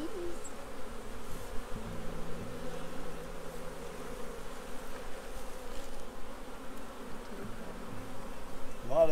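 A steady, dense drone of a honeybee swarm buzzing nearby in a tree, a continuous low hum with slight shifts in pitch and intensity.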